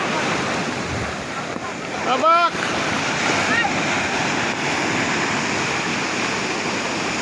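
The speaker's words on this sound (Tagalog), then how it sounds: "Malalaki ang alon niya, malalaki." Big ocean waves and steady wind roar heard from a small boat out at sea, loud and continuous, with a brief shout from a man partway through.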